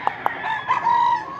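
A rooster crows close by, preceded by a couple of short sharp clucks, with the crow rising and holding briefly.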